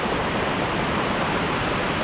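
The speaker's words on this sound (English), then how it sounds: "you can see a little bit more of this waterfall" A waterfall on a hiking trail in a Tennessee state park roars as a dense, constant rush of falling water, steady and fairly loud throughout with no voices.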